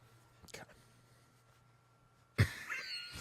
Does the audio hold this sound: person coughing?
yes